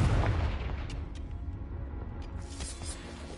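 A loud Confringo explosive spell from Hogwarts Legacy bursts at the start, its heavy boom decaying into rumbling debris with a few sharp cracks and pops afterward.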